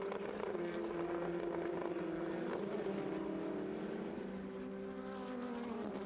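Race cars scream around the Indianapolis Motor Speedway road course during a 2017 race, several engines droning and shifting in a loud, continuous pass with no voices heard.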